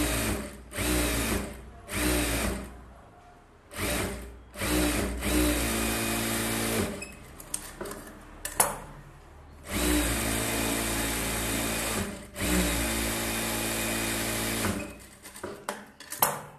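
A sewing machine stitches the hem of a blouse for a pattu saree in several bursts of fast, steady whirring, separated by short pauses, loud and close with no talk.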